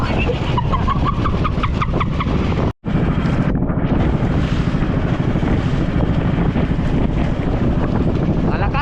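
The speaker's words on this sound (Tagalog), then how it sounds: "Malakas ang hangin malakas" Strong wind buffets the microphone at sea while fishing for tulingan, a constant loud roar with water and engine-like noise underneath and a brief dropout partway through.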